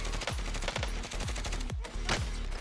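Sniper rifle fire in the video game Call of Duty Warzone: a string of five or six sharp cracks about half a second apart, each with a falling boom, over steady game noise.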